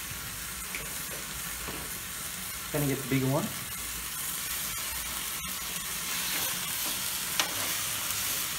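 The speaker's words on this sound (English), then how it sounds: "That's the sound you want to hear, that sizzling." T-bone steaks sizzle steadily in hot canola oil, a continuous close frying hiss running throughout, with a brief clatter and a short spoken line partway through.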